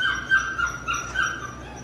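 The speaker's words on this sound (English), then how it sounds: "Beautiful puppy. Look at those paws on her." A young puppy whimpers and yips in thin, high, repeated cries, a few short whines close by over a quiet background.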